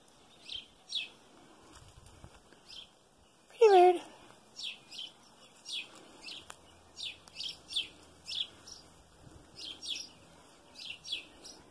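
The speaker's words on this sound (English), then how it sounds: "Bird." Small birds chirping outdoors in a steady series of short high tweets every second or so, with one louder, lower call near the start and quiet background noise.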